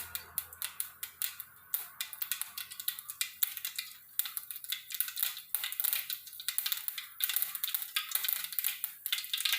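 Mustard seeds spluttering and popping in hot oil in a pan while a papaya kootu is being cooked, a dense run of sharp crackles that grows busier over time, close and fairly loud with no talking.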